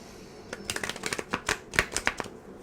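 Rapid riffling tarot card shuffles, a run of crisp flutters and snaps close by, with a few louder bursts toward the end.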